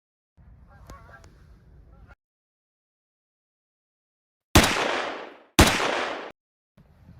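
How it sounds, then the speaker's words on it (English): Two loud, close shotguns blasts fired while hunting Canada geese, a second apart and each trailing into a short echo, after faint goose honking and brief quiet. "I just shot my first"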